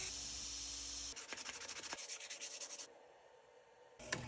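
A 1095 high carbon steel knife blade, cut out with a plasma cutter, being ground to shape: harsh abrasive grinding that breaks into a rhythmic series of short rubbing passes, then fades to a quieter scrape.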